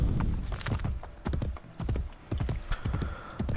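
Horse hooves galloping in Assassin's Creed Brotherhood, a fast, rhythmic series of close clip-clop thuds in quick bursts with brief pauses between.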